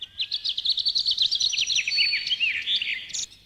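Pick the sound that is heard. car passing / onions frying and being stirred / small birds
small birds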